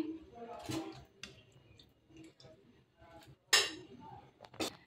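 Serving chhanar kofta curry onto a dish, metal utensils clink and tap against the plate in a few sharp, scattered hits, with a voice speaking in between.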